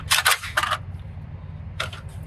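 An AR rifle's two halves snapped together, giving several sharp close metallic clicks, a quick cluster at first, then one more click after a pause.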